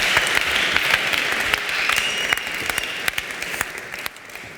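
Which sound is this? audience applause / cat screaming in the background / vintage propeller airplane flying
audience applause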